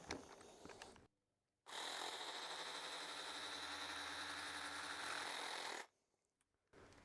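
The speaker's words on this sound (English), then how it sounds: "Next thing I want to try out is what this jigsaw is like. So let's try and cut that bit off." Jigsaw fitted with a fine-toothed metal blade cutting perspex, a loud buzzing rasp lasting about four seconds between brief pauses, with short bursts of tool noise before and after, close up.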